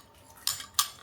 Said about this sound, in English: Give it a good mix. Make sure it's well incorporated.